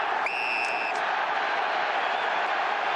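An Australian football crowd at Sydney versus Port Adelaide roars in a broad, sustained wash of cheering, with a brief whistle-like tone near the start.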